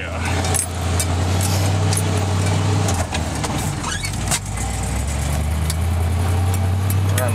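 A 1977 Chevy truck's engine runs steadily with a deep low rumble while driving, with rattles and jingling in the cab and someone talking over it.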